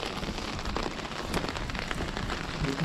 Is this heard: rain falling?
yes